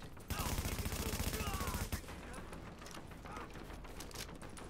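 Gunfire hits the player in a video game, a dense rapid burst of automatic fire for under two seconds, then a noisy, rumbling game soundscape continues.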